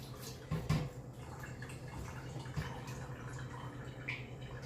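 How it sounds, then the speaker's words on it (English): Salted water splashes and trickles as it is poured off green plantain, with a couple of sharper sloshes at the start and a soft running sound after. "now I'm going to pour out the water and the salt"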